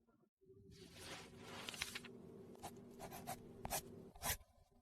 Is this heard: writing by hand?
yes